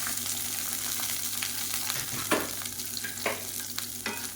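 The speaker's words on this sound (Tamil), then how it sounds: "இதில் வந்து ஒரு கைப்பிடி அளவுக்கு சின்ன வெங்காயம் கட் பண்ணதை சேர்த்துக்கலாம்." Shallots sizzle and crackle steadily in hot oil, with a few sharp pops and the scrape of stirring, close and fairly quiet.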